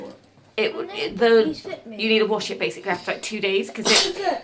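A person sneezes near the end of a stretch of close, casual talk, the sneeze a sharp bright burst over the voices.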